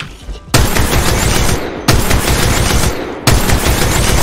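Devotion machine gun firing in Apex Legends, three long, loud sustained bursts of rapid automatic fire separated by brief pauses.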